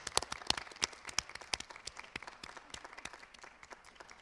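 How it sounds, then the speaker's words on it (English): Audience applause for students at a school board of education meeting, a sparse, moderately distant round of scattered clapping with uneven bursts that thins out toward the end. "Let's give them one more round of applause"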